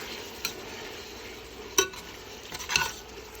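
Onions sweat in a pan with a low, steady sizzle. A few sharp clinks of a utensil against the pan cut through it, and there is no talking.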